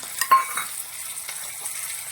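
Ginger and green chillies sauté with a little salt in a pan for mushroom masala, a close, crackling sizzle with a few quick stirring scrapes and light clinks early on.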